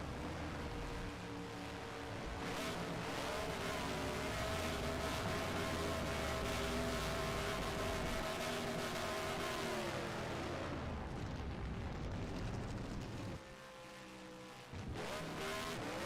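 A race car engine in a racing video game at Dover drones loudly and steadily, then cuts out briefly near the end and fires back up to a sustained roar.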